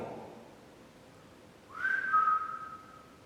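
One short whistled note that slides up and then holds steady for about a second in an otherwise quiet room.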